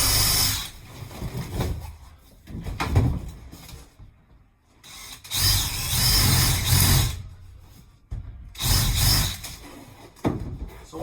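A power drill bores holes through plywood furring for van wall framing in a Ram Promaster, three long loud grinding bursts separated by brief quiet gaps.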